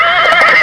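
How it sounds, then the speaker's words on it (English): A horse neighs once in a short, loud whinny with a bright, wavering pitch, heard alone and up close in an animal-sounds lesson for children. "Horse,"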